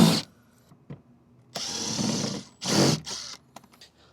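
Power tool loosening and backing out screws on a BMW wheel well liner, with several separate whirring bursts, the longest about a second, between short pauses and light clicks.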